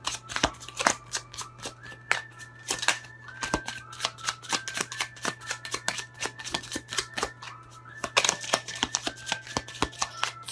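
A Pure Love Oracle card deck is shuffled up close, a long run of crisp, rapid riffling clicks and slaps in an uneven rhythm, quiet overall with a steady low hum underneath.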